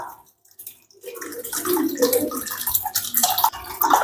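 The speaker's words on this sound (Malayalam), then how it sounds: "ഇതുപോലെ ഒരു അരിപ്പ എടുത്ത് അതിലോട്ട് നമുക്ക് ഒഴിച്ച് പിഴിഞ്ഞ് പിഴിഞ്ഞെടുക്കാം" Water from finely ground tapioca pours and splashes through a sieve as it is squeezed, a close, continuous wet gushing that begins after a brief quiet moment and carries on steadily.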